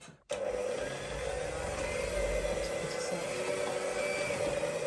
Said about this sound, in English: First, we need a brand new electric whisk.